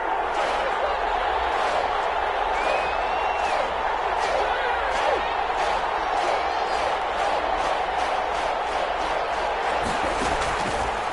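Crowd noise from a football video game on PS4, a Seahawks game nearing a big third down, steady broad roar and cheering filling the whole stretch with a few sharp crowd swells.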